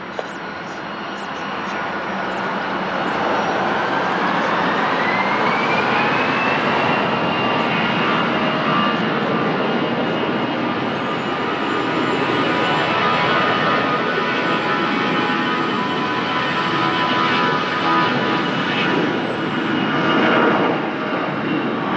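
A jet airliner takes off from runway 20 at Lisbon Airport, its engine roar building within the first seconds and then holding loud and steady, with a faint radio voice beneath it.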